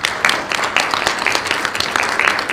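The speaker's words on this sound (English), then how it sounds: "Give her a round of applause." Audience applause at the end of a conference panel, a steady burst of many hands clapping in a room, with a voice faintly mixed in.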